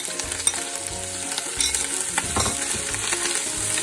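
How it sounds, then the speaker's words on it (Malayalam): Crushed shallots hit hot ghee with garlic for a Kerala-style green bean stir fry, giving a loud, steady sizzle broken by scraping stirs and small pops, with no voices. "നെയ്യ് ചെയ്തായതുകൊണ്ട് നല്ലവണ്ണം, അതോടൊപ്പം തന്നെ ചുവന്നുള്ളി ചതച്ചതും കൂടെ ഇട്ട് കൊടുക്കാമേ"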